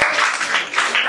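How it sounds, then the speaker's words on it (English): Students at a school quiz club clap together in a short, loud burst of applause lasting about a second. "Clap for me."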